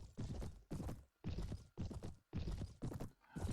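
Horse hooves clip-clopping across ground in Mount & Blade Warband, a rhythmic series of about six heavy, close, loud hoofbeat clusters with short gaps, no voices.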